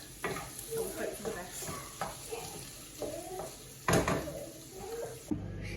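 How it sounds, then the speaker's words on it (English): Chicken bhuna curry stirred in a pot, with several scraping strokes and knocks of a spoon against the pot over a low sizzle and a sharp clatter near the end. "Now we'll give it a quick stir."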